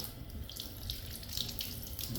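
Tap water runs steadily into a sink while something dirty is rinsed under it, a soft constant splashing with no voices.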